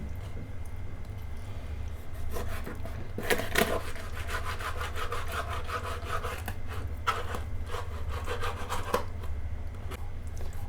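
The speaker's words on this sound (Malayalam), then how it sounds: "നല്ല ഷാർപ്പ് കത്തി വേണം ഇതൊക്കെ നമ്മൾ കട്ട് ചെയ്ത് ചെയ്യുമ്പോൾ" A sharp knife slicing a whole big salmon, a steady run of rhythmic rasping strokes against the fish and board, close and moderately loud, with a low hum underneath and no talking.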